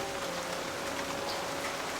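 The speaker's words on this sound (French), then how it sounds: "La pluie recommence à peine à tomber," Light rain falls steadily on a Japanese garden in Kyoto, a constant dense patter of drops on surfaces with no other sounds.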